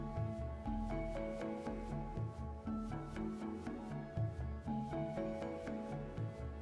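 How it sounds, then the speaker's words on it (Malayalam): A spoon stirs a thick Kerala pumpkin curry (mathanga pulinkari) as jaggery is mixed in, making a faint, rhythmic scraping and rubbing every half second or so over soft background music. "ശർക്കര നന്നായി അലിഞ്ഞു ചേരുന്നത് വരെ മിക്സ് ചെയ്ത് കൊടുക്കാം."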